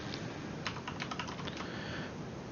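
A short burst of computer keyboard typing, around a dozen quick key clicks clustered in the middle, heard over a steady background hiss.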